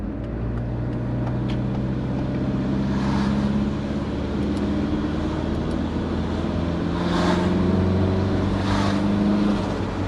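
A big-turbo Subaru engine pulls hard on boost, its note rising through long sweeping accelerations with faint hiss bursts between, loud and from inside the car, without talk.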